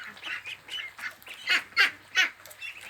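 Several young Yi Liang ducks, roughly a month old, quack in short, separate bursts, a few louder calls rising close by over softer background chatter, with no one speaking.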